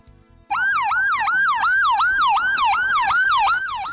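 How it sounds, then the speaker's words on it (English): A loud ambulance siren wailing, rising and falling rapidly in a repeating cycle, close by, starting abruptly after a brief quiet moment. "It's a loud ass ambulance."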